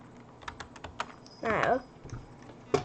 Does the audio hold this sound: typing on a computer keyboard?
yes